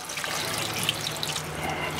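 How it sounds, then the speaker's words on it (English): Tap water runs steadily into a pot, a continuous broadband splashing hiss with small drips and bubbles, close by, with no talking. "Add enough water"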